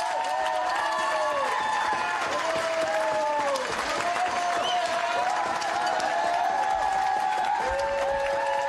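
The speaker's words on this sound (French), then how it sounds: "ces appels pour applaudir le personnel médical" Neighbourhood residents applauding medical staff from outdoors, a steady wash of distant clapping and crowd noise with cheering and whistles, while wailing siren-like tones sweep across the scene.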